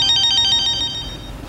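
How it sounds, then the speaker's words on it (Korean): Telephone ringtone going off, a close, loud electronic trill of rapid pulsing tones that fades after about a second. "어머나, 전화 오네."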